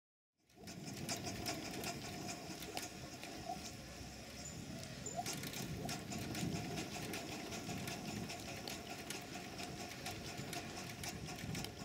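Twin-cylinder compound steam road engine runs in a workshop once the regulator is opened, giving a continuous rapid mechanical clatter and beat at moderate level with no speech.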